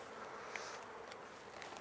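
Honey bees buzz steadily around a 14x12 nuc frame being handled, a soft continuous hum with faint brief rises throughout.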